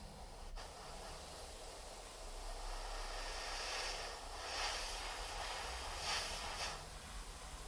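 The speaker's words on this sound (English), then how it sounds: "And then with the chipping paint, we're just going to go straight into the airbrush." Airbrush hissing as chipping paint is sprayed onto a Warhammer 40k Necron miniature, a soft steady airflow with a few slightly stronger bursts, close and quiet, no talking.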